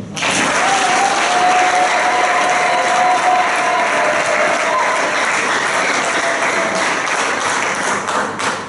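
A congregation at the opening of a perpetual adoration chapel in Lubumbashi applauds in acclamation of Jesus, dense sustained clapping loud and close for the whole stretch, with a high whistle-like tone briefly rising over it.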